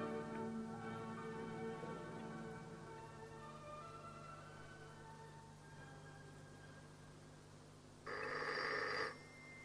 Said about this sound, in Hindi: अली जान फोन सुनो, शायद उसकी आंख लग गई